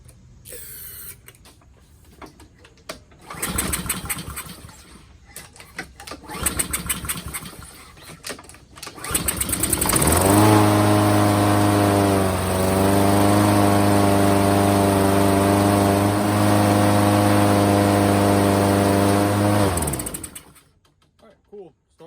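A Toro Recycler lawn mower with a Honda GCV160 engine, just back from carburetor cleaning, gives several rough pull-start attempts, then catches and runs loud and steady for about ten seconds before cutting off.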